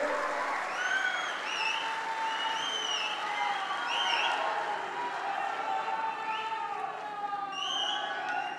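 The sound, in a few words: crowd applauding at an Amit Shah political rally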